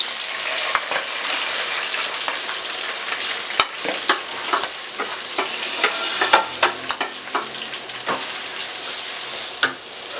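Onions frying in a pan over full flame, a loud, dense crackling sizzle punctuated by frequent spatula scrapes and taps, close and continuous without speech.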